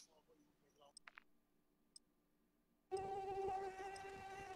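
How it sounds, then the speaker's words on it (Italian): A mosquito buzzes loudly as a steady, droning whine that starts abruptly after a few faint clicks and continues to the end. "Zanzara, poi la prendo."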